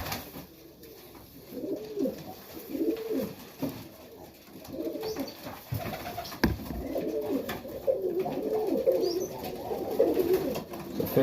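Junior highflyer pigeons coo in a loft, repeated soft low rolling calls overlapping, with a faint background hiss and an occasional knock.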